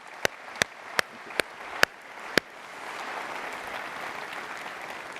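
At a conference summit in Barcelona, a few loud separate claps ring out first, then a wider audience joins in a soft, steady round of applause that carries on to the end.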